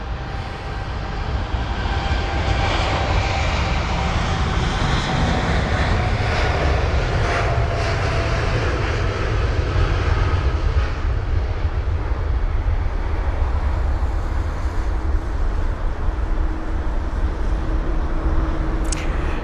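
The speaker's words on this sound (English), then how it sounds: "We have got a departure now of the Air Canada 7879." An Air Canada Boeing 787-9 departs Heathrow, its jet engines holding a loud, steady broadband roar with a faint high whine for the whole stretch, no voices over it.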